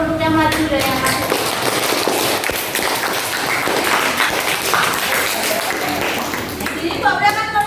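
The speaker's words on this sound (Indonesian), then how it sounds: "Beri tepuk tangan untuk yang maju dan yang masuk." Pupils in an Indonesian classroom clap steadily for classmates who came forward, a dense, continuous patter close by that runs nearly the whole time, with children's voices rising briefly at the start and end.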